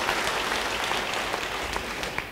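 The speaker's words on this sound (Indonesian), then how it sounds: "Yang mau beri tepuk tangan bagi dia" A church congregation claps and applauds, a dense, steady patter of many hands filling the room for a couple of seconds with no voices over it.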